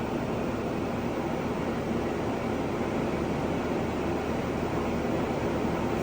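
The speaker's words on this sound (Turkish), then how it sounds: "Şu anda klimamız bu şekilde çalışıyor." Steady, even broadband hum and whoosh of a roof-mounted caravan air conditioner drawing about 700 to 800 watts, running continuously, with no breaks or other sounds.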